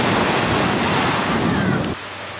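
Ocean waves on a Jamaican beach at Ocho Rios, a loud close wash of surf mixed with wind noise on the microphone that drops off abruptly near the end, with no one talking.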